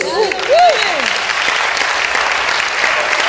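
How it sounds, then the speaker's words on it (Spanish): Church congregation claps loudly and steadily through the whole stretch, with a brief sliding tonal voice or cheer near the start. "dale un aplauso a Dios"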